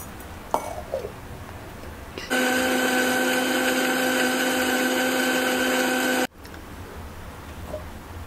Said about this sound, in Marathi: घावण्यासाठी आता आपण वरीचे तांदूळ आहे ते आपण आता मिक्सरला बारीक वाटून घेऊया.